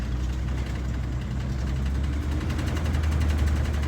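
Car engine lugging at low revs during a gravel-road test drive: a steady low rumble with a faint rhythmic shake, continuous and close, no talk.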